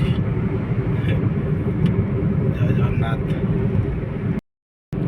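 A car drives along a single-lane road, its engine and tyre rumble a steady low drone under a man's speech, before cutting out abruptly near the end.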